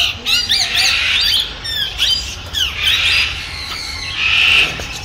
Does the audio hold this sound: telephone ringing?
no